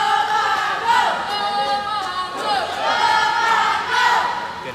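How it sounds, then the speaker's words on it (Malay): A large crowd of Pahang supporters roars and cheers loudly at a sports match between Pahang and Penang, continuous waves of shouting swelling and falling throughout. "Kita dapat mendengar sorakan yang gemuruh daripada pasukan Pahang yang mengganggu mental daripada Tekong cilik daripada Penang."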